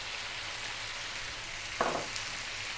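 Sliced red onion frying over high heat in a hot pan makes a steady, moderate sizzle, with one brief stirring scrape partway through.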